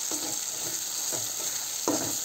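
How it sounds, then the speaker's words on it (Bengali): Onion and garlic frying in a pan for a homemade country chicken dish, a constant sizzle with three distinct stirring scrapes spaced about a second apart, heard up close with no voices. "রসুন আর পেঁয়াজ দিয়ে আর কি ভেজে নিচ্ছি।"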